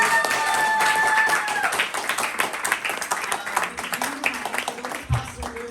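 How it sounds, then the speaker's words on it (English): Audience clapping at a Caribbean Tales Film Festival screening night Q&A in Toronto, a dense patter of hands that runs throughout and thins toward the end, with some speech mixed in. "Another round of applause."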